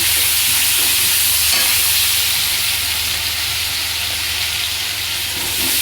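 Chicken frying in a pan for butter chicken while it is stirred, giving a loud, steady sizzle and hiss throughout with faint scraping of the spoon underneath.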